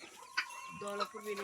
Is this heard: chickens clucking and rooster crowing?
yes